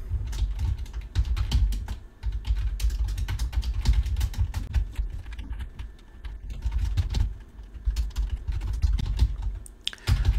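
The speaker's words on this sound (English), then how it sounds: "And I'm going to type add" Steady typing on a computer keyboard, rapid close clicks continuing throughout with a few brief pauses, no talking.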